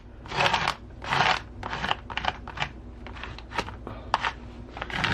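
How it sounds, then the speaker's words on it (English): An old plastic employee card scrapes paint across a journal page in close, scratchy strokes. Roughly eight to ten short rasping swipes come in an uneven rhythm. "And I just keep scraping it around, picking up little pieces and spreading it so it just highlights it"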